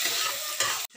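Potatoes frying in a pan as tomatoes go in for aloo dum, a dense close hiss that surges briefly, then cuts off abruptly.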